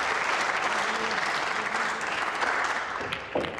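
Audience applause at the World Cup of Pool semi-final between England and Japan, steady indoor clapping from the crowd sustained for several seconds, with a faint knock near the end.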